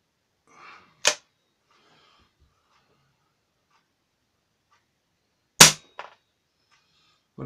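A Webley Typhoon air pistol fires two sharp, close shots several seconds apart, each a crisp snap with a brief mechanical click, in an otherwise quiet setting.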